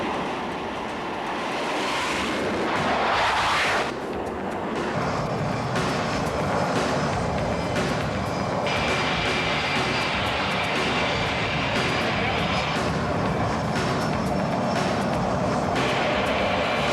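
A loud, steady airplane engine drones continuously, close and powerful, with a rising whine near the start and a sustained high tone on top.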